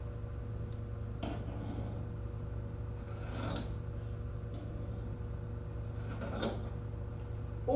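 Scissors cut out the corners on both sides of a fleece braided blanket, making a few soft, brief snips spaced several seconds apart over a steady low hum, with no talking.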